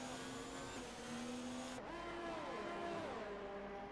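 Formula One car engine in F1 2019 hitting the rev limiter on track, a steady high buzzing whine that stutters and shifts pitch as revs bounce, heard as game audio with no talking.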